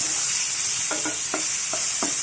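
Chillies fry in hot oil for a green apple pickle, a loud, continuous close sizzle with a handful of soft stirring scrapes against the pan, and no voices.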